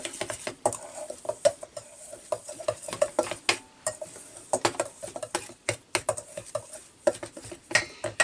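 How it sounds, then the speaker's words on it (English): Low-carb pizza crust ingredients mixed by hand in a bowl in an RV kitchen, a rapid irregular series of close scraping, sticky squelching strokes with short pauses, no talk. "So I'm going to mix this up."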